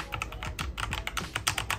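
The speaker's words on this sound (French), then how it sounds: "aiment bien le bruit du clavier" Fast typing on a Cooler Master CK352 keyboard, a rapid, uneven run of crisp key clicks heard up close and fairly quiet, with no talking.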